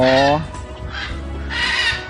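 Geese honk loudly nearby in a couple of harsh, nasal bursts, with a quieter gap of murmuring sound between the calls.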